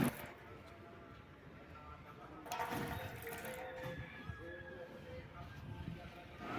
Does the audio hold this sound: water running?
yes